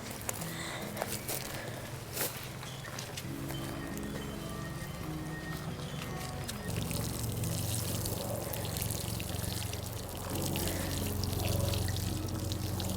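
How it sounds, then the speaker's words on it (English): Water softly pours and trickles over freshly direct-sown root crop beds, including daikon, in an outdoor garden, a faint, steady wash with a low rumble of wind underneath. "then we'll water this all in, and we will be done"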